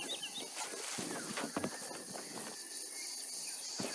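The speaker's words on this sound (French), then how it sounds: "Là, tous les insectes qu'on entend, ils viennent du score de l'herbe. Toutes les cigales, tout ça." Grass ambience from the indie RPG Terra Memoria carries a dense, continuous shimmer of insects and cicadas, with faint scattered rustles and soft taps underneath, all at a low, even level.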